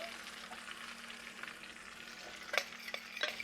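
Beef short ribs sizzle in a hot pan with garlic, a steady, close frying hiss with occasional sharper crackles and a faint utensil scrape, no talking.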